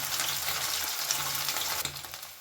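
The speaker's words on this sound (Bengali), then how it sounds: "মাছগুলো কিন্তু আমি ভাজবো" Amudi fish fries in hot oil with only turmeric, giving a steady, close sizzle that runs the whole time with a few faint stirring clicks near the end.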